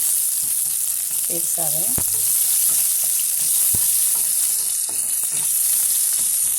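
Sliced onion, urad dal and dried red chillies frying in hot oil, a constant close sizzle with a few sharp knocks of a spoon against the pan, a brief spoken word over it.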